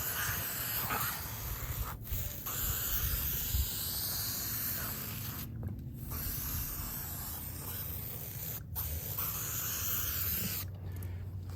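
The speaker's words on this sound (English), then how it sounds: "So I'm going to take a little silicone spray here. Just spray around that bead." Silicone spray hisses steadily around a tire bead on a military safety ring wheel, almost continuous with a few brief pauses, close and fairly loud.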